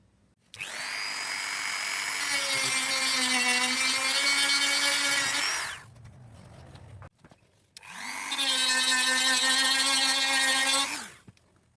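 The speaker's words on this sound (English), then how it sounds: "did a bit more dremeling off camera" A Dremel rotary tool grinds a BMW E30 Alpina front apron in two loud, sustained bursts of high-pitched whine, each several seconds long, separated by a brief pause.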